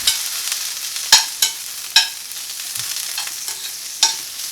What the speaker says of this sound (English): I saute a handful of green beans in some bacon fat